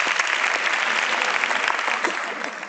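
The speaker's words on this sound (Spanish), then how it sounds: "es un aplauso así" A crowd at an international wellbeing conference session bursts into applause, a thick continuous clatter of many clapping hands that stays loud throughout and eases slightly at the end.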